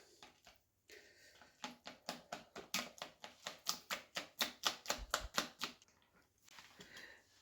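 Flour and water batter for homemade spring roll sheets gets whisked in a bowl, a fast run of rhythmic clacking strokes that builds and then fades, close and alone.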